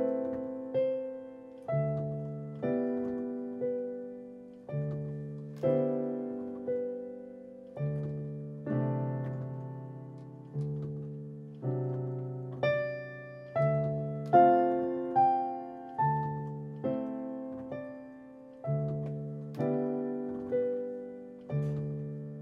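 Solo piano plays part of Satie's Gymnopédie No. 1 in a slow, even waltz rhythm, with soft low chords on each beat under a sparse melody, each note ringing out and decaying, quiet and close with no voices.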